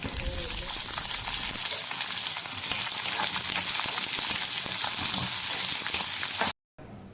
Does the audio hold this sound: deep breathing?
no